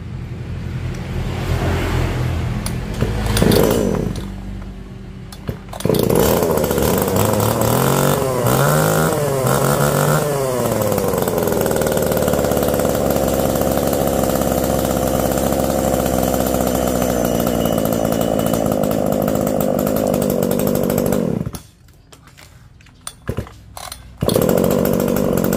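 Singu 290 chainsaw engine starting with a few pulls, then running loud and steady at a high buzzing pitch for a long stretch before cutting off and sputtering.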